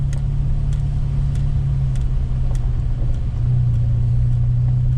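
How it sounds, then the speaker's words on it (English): ATVs driving along a dusty dirt road in the Arkansas woods, heard as a continuous mid-pitched engine drone with a slight pitch shift partway through and faint scattered clicks, steady and fairly close, with no voices. "ATVs are kicking up a dust storm."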